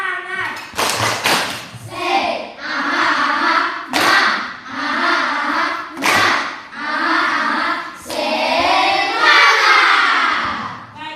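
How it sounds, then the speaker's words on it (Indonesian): A classroom of children performs a rhythmic spirit clap led by their teacher, loud bursts of clapping alternating with chanted voices in a steady repeating pattern, close and lively. "Tepuk semangat."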